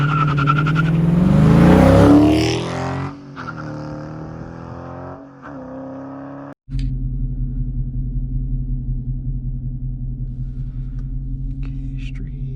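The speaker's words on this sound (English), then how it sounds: "it makes this awesome whistle sound when the car is idling" A Dodge Challenger fitted with a Hellcat airbox revs and accelerates loudly, then cuts briefly and drops to a steady, throaty idle that carries a faint whistle on top.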